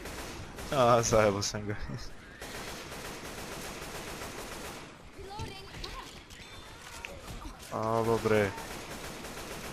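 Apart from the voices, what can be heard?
gunfire in the video game Left 4 Dead 2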